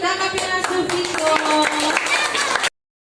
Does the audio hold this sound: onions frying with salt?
no